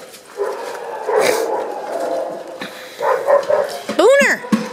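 Puppies in a mixed room bark and yip in short bursts, with a high whimpering yelp near the end, while a person talks over them close by.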